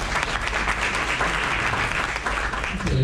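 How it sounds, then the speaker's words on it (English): An audience at a mortgage and real estate broker event claps for a speaker from Fidelity Home Mortgage, a loud, dense, even roar of applause sustained for about three seconds with no voices over it. "Please give him a round of applause."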